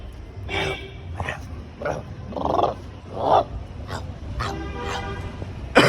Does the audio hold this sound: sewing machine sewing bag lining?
no